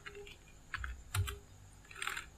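Someone types a command on a computer keyboard, a few quiet, close keystrokes with small gaps between them, heard alone in a near-silent room.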